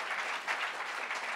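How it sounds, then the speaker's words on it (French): Audience applause at a literary book talk, a short, fairly soft burst of steady clapping from a seated crowd. "on peut l'applaudir"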